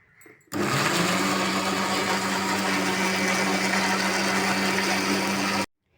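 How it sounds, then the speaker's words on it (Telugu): An electric mixer grinder blends raw mango with mint, salt and water in a steady, loud whir that starts abruptly, runs unbroken for about five seconds and then cuts off. "ఇప్పుడు మిక్సీ పట్టించాలి."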